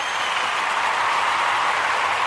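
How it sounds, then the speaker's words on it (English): A short burst of steady, dense applause from an audience, even and continuous with no voices on top. "Let's get that Gye-Nyame round of applause"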